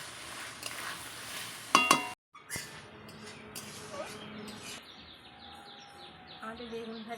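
Eggplant sautéing in a pan with a steady, fairly soft sizzle and stirring hiss in a home kitchen, with a brief pause midway, faint background chirps and occasional voices.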